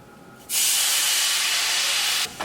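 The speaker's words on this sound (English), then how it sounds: "I'm going to add 1 cup of Marsala wine." Marsala wine hits a hot skillet where chicken was just seared, giving a loud, steady steam hiss that bursts in suddenly and holds for about two seconds before cutting off.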